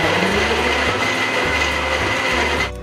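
A blender whizzing chopped medium-sized tomatoes into a smooth puree, a loud steady motor whir with rattling blades that runs continuously before cutting off at the end.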